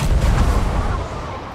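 Cannon fire in the Sea of Thieves pirate video game during a ship duel between a sloop and a brig: loud, dense booming blasts packed at the start, then a sustained rumbling wash that eases slightly toward the end.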